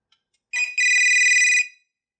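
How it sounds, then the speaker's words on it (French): Intercom master station ringing as it automatically calls back its secondary station: a short electronic ringtone burst, a brief gap, then a steady bright warbling tone lasting about a second, close and clear with no talk. "lorsque le réseau va se libérer, le poste chef va rappeler automatiquement son secondaire"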